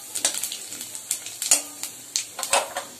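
Cumin seeds and bay leaves fry in hot oil in a wok, a close, crackly sizzle broken by quick spatula scrapes and sharp metallic clinks against the pan.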